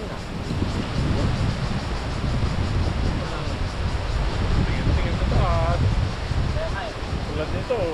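Strong wind buffets the microphone over rolling sea waves at sea ahead of a storm, a steady loud roar with people talking over it.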